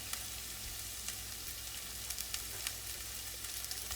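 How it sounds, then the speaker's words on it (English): Crushed tomatoes going into a pan of browned beef and sausage give a soft, even sizzle with faint crackles and occasional small pops throughout, fairly quiet and with no voices. "So now we will add our luscious red crushed tomatoes."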